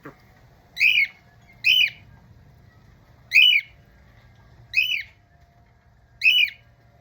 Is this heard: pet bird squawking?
yes